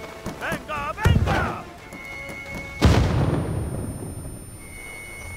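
A grenade goes off in the Marvel's Avengers video game: one sudden, loud, deep blast that fades into a rumbling tail, following voices and other game sounds.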